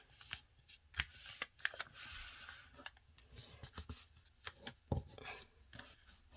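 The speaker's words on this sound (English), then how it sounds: "And now I can fold this part of the paper backward." Sheets of paper being folded and creased into a paper airplane, with soft crinkles, rustles and sharp creasing scratches in irregular bursts, close and fairly quiet, with no talking.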